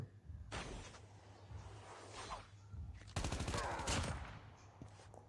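Rapid gunfire rattles in Call of Duty, with a couple of scattered shots followed by a dense automatic burst near the middle, fairly close and sharp, with no talk over it.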